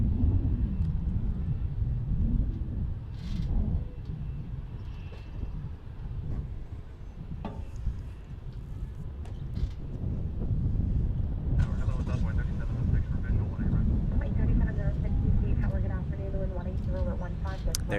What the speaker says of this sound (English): Dreamliner will be next.